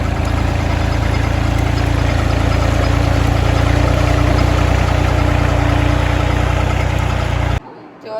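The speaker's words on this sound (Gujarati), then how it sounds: "હવે ટ્રેક્ટર જ હાંકવાનું ચાલુ રહે" Loud and near, a tractor engine drones at a constant chugging pitch for several seconds, then cuts away abruptly at the very end.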